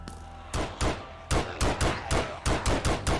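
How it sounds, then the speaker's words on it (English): Gatling gun fire in the Minecraft video game, heard as rapid bursts of loud, sharp shots in irregular groups of two and three, with no talk. "Got a Gatling gun."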